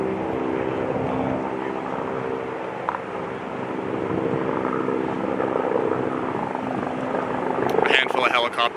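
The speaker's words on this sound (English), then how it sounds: "A handful of helicopters are bucketing regularly on this area" Several firefighting helicopters fly over a wildfire near Highway 97 and West Side Road, bucketing water on burning homes; a steady rotor and engine drone holds throughout, with a brief stronger burst near the end.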